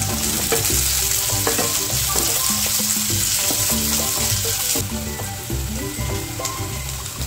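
Masala of cashews, grated coconut, ginger and garlic roasts in a hot pan, a steady loud sizzle with scraping stirs and clinks running throughout, no voices.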